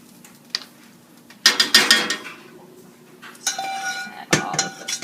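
Meatball ingredients being mixed in a bowl, heard as bursts of clinking and scraping of utensil against the bowl, separated by quieter pauses.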